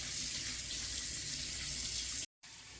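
Tap water running steadily over beef bones being rinsed for pho broth, a soft continuous splashing hiss that cuts out briefly near the end.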